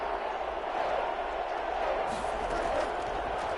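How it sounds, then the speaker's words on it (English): Simulated stadium crowd in the Madden 21 football video game at U.S. Bank Stadium, a sustained roaring wash of cheering that swells slightly before a big third down. "the crowd getting into it as we come up on a big 3rd down"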